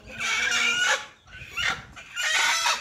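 An agitated brooding hen clucks angrily up close in three drawn-out, harsh bursts separated by short pauses.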